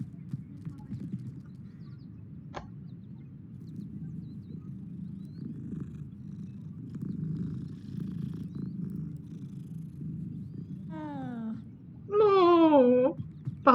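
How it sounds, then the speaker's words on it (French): A cat purrs softly and steadily in the game Hogwarts Legacy, a low continuous rumble under quiet ambience, followed near the end by a few short rising meows. "Oh, un chat."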